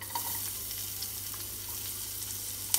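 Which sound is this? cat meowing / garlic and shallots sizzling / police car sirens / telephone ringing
garlic and shallots sizzling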